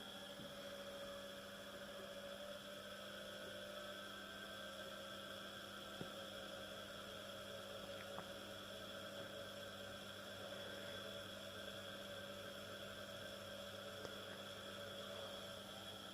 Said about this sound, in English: another 50 volts up, and then again 50 volts and so forth until we reach 230 volts, which is the rated voltage for this induction motor.